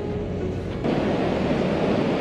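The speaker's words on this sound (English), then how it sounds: "Waves are crashing in there." Waves crash on a beach beside storm-eroded dunes, a broad rushing roar that swells suddenly partway through and stays loud.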